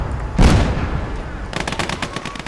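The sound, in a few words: gunfire in a tank battle in the video game Gates of Hell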